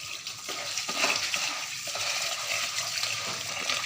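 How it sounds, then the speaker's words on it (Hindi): Rice for beef pulao washed by hand in a vessel of water, with continuous close sloshing and stirring splashes throughout and no voices. "अच्छी तरह चावलों को धोना है ताकि इनके अंदर जो सुसरी है या मट्टी है वो सारी बाहर निकल जाए।"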